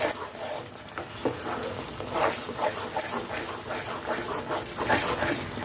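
Moong dal halwa with cardamom and fried dry fruits stirred in a pan, a continuous scraping and gentle sizzle with soft repeated strokes, close and steady throughout.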